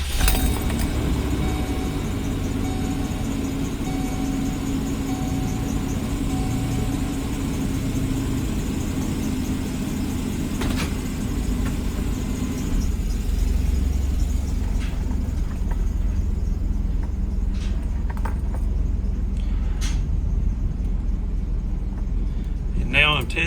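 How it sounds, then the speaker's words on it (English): A car engine runs steadily at idle with a constant low hum throughout, shifting slightly partway through as it is put in gear during a transmission slip check. "I also want to listen to the engine"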